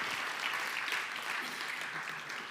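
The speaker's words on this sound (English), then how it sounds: "let's give them a big round of applause" A conference audience at PyCon Greece in an Athens auditorium claps together in a steady, even round of applause. It sounds somewhat distant and soft, lasting a couple of seconds.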